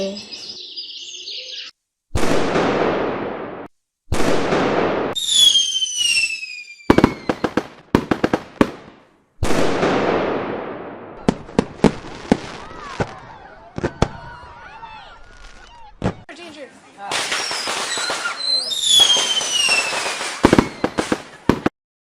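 Fireworks and firecrackers burst in an animated cartoon about Kali Puja and Diwali, with loud sharp bangs, crackling and whistling rockets repeating throughout, mixed with bird chirps and brief voices.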